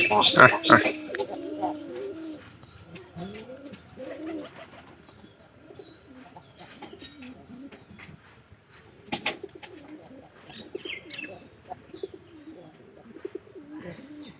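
Local desi pigeons coo softly and repeatedly at close range, with a brief loud flutter at the start and occasional chirps while someone talks over them.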